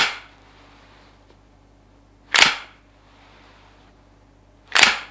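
Pistol handling at a shooting range, with three sharp metallic snaps of a slide being racked spaced a couple of seconds apart, crisp and close against near silence.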